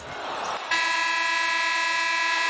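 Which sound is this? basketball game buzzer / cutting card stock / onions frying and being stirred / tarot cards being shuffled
basketball game buzzer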